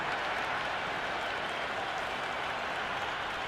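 A virtual cricket crowd in a video game roars and applauds continuously, forming a dense, steady wall of cheering and clapping that stays loud and unbroken throughout.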